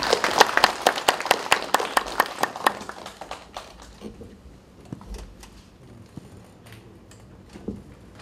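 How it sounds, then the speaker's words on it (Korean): An audience at a national basic jobs forum's founding assembly claps to welcome an Incheon National University professor, brisk, fairly close claps for about three seconds, then thinning to a few stray taps and quiet room noise. "오구석 교수님을 큰 박수로 맞이해 주시기 바랍니다"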